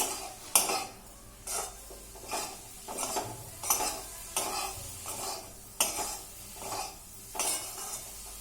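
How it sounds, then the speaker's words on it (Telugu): A spoon stirs bitter gourd curry with cumin in a pan, scraping in about a dozen even, rhythmic strokes against a faint sizzle, close and alone with no talking. "ఇలా కాస్త జీలకర్ర కూడా వేసుకోవాలి. వేసుకుని కలుపుకోవడమే, చాలా బాగుంటుంది."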